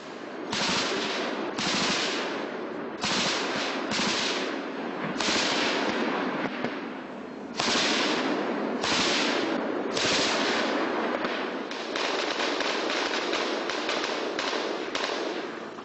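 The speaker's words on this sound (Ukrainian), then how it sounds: "У бійців бойовики стріляли з боку лісу" Repeated bursts of gunfire in combat from militants firing out of a forest, some single shots and some rapid volleys, sharp and loud, recurring irregularly throughout with no speech.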